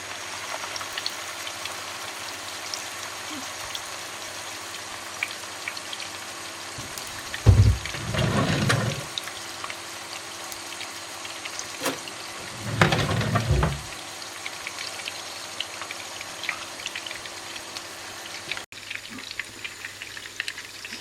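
Köfte meatballs fry in a pan with a soft, constant sizzling hiss, broken twice by louder, brief bursts of crackle and clatter.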